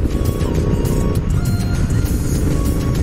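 A Royal Enfield Interceptor motorcycle fitted with an aftermarket exhaust is being ridden, its engine giving a steady, loud, throbbing drone mixed with wind rush throughout.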